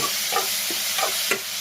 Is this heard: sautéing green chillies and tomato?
yes